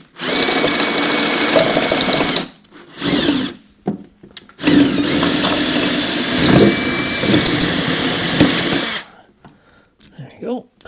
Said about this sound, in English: we can drill that out right now